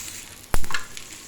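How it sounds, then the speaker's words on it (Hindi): Paratha frying on a hot pan for breakfast, a short sharp sizzle burst with a scrape of the utensil, then a softer hiss fading quickly, close and loud against a quiet kitchen background. "साथ हम पराठा बना रहे हैं नाश्ते के लिए"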